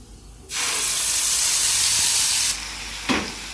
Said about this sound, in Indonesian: Jadi sambil merebus, kita tumis bumbu yang tadi udah kita halusin